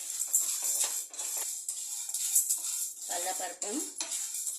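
Chana dal dry-roasting in a pan over fairly high heat is stirred with a utensil, giving repeated scraping and rattling strokes close up, with a brief voice partway through.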